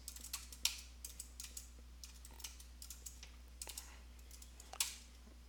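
Typing on a computer keyboard at a REPL prompt, a quiet, irregular run of light key clicks with a few sharper strikes, close and alone against a low steady hum.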